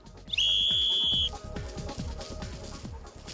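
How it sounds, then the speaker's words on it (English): A hiking safety whistle gives one shrill, piercing blast lasting about a second, followed by a series of soft, muffled knocks and rustling. "It's easy to hear the whistle."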